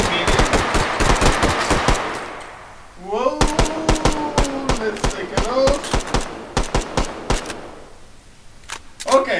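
Gunfire in the VR shooter Hot Dogs, Horseshoes and Hand Grenades: a loud burst of rapid automatic fire, a short pause, then scattered sharp shots and short bursts, with a voice speaking over part of it.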